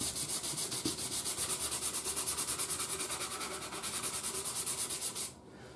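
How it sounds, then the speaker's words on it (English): Light hand sanding with 200 grit sandpaper on a Zenith Boomerang radio's surface: a steady, rhythmic back-and-forth rasp of fairly even strokes, close and clear, that stops just before the end; no speech. "I'm going to just take some 200 grit sandpaper, and I'm just going to lightly roughen up the surface"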